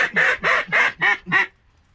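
A duck near a hunting blind by a cypress tree gives five quick, loud quacks in a steady run, then falls silent.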